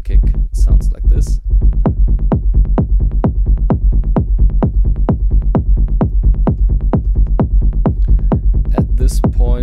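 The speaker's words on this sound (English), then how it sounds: "At this point, it sounds as if the rumble is a little bit too loud" A Syntakt synth rumble with extra compression thuds under a steady four-on-the-floor techno kick drum, loud and boomy, around twenty even beats at a fast tempo with no voices.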